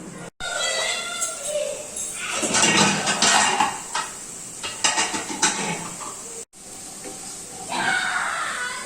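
Palak paneer being stirred in a pan over a low flame, with a spoon scraping and clinking against the metal in irregular bursts, close and fairly loud, and a few brief breaks.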